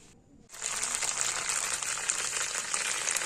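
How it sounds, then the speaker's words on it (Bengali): Whole garam masala hitting hot oil in a pan, a sudden burst of crackling sizzle that starts after a brief quiet moment and keeps going steadily, close by. "দিয়ে দিলাম গোটা গরম মশলা।"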